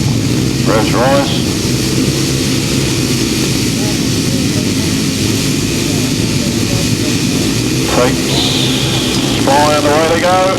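A pack of upright solo grasstrack motorcycles revs hard on the start line of a championship race, a loud, sustained engine roar with rising pitch sweeps that continues throughout.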